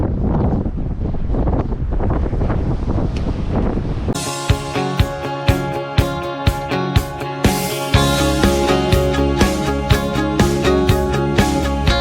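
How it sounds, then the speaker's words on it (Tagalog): Strong wind buffeting the microphone on a bike ride, a steady rushing roar that later turns harsher, with a series of regular thumps in the second half. "ang lakas ng hangin"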